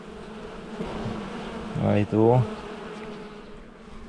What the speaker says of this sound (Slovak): Sa tam snažia dostať včielky vo veľkom.